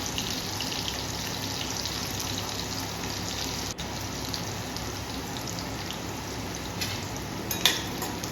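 Garlic and chilli sputter in hot oil while a tempering is cooked for a semolina breakfast dish. The frying gives a steady, close crackling sizzle with occasional sharper pops and no talk.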